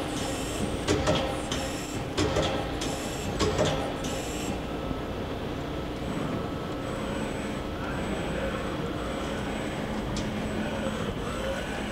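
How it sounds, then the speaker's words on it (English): A Doosan Lynx 220A CNC turning center indexing its 12-position turret, with a run of rapid mechanical clicks and clunks early on, then a steady machine hum and faint whine. "now we're gonna index the turret."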